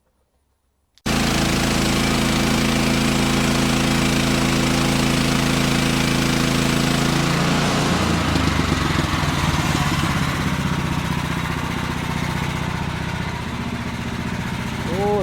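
A log-cutting machine's engine starts after a second of silence and then runs loud and steady, close by, with a rough droning roar that keeps going to the end.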